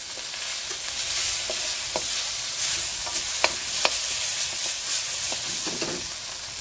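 Oyster mushrooms stir-fried in plenty of oil in a wok on a home cooker, for mushrooms in oyster sauce: a steady close sizzle broken by scattered sharp clicks and scrapes of tossing, with no voices.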